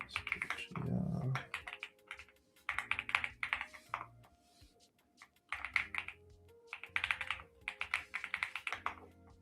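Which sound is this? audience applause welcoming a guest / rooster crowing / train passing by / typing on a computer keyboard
typing on a computer keyboard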